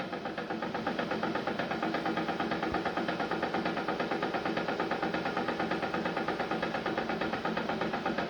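Tesla Model 3 drive unit motor spun up under closed-loop inverter control on a test bench, giving a steady, loud mechanical whir with a fast regular pulsing throughout, no voices.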